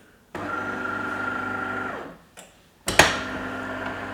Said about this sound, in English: So first you wake up the machine.